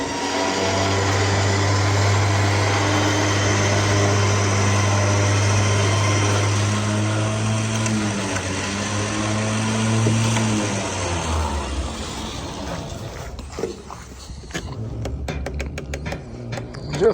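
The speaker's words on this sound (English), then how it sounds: "This thing's got a nice winch on it." An electric winch on a Diamond C trailer hauls a load off in a long, steady, loud motor drone that shifts pitch midway, then cuts out, leaving clanks and rattling metal knocks as the load settles.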